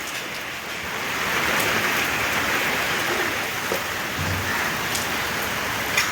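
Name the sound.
rain falling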